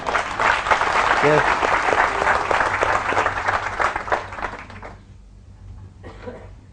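Loud, dense applause from a large audience at a talk or seminar fills most of the clip, then fades out, with someone speaking briefly over the tail end.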